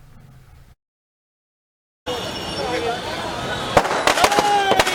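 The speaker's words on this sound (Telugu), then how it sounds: "దిల్సుఖ్ నగర్లో టపాసులు పేల్చి స్వీట్లు పంచుకొని జై కేసీఆర్ అంటూ" Firecrackers burst at a street celebration in Dilsukhnagar, a run of sharp cracks and pops rising over crowd noise after a short silence, denser and louder toward the end.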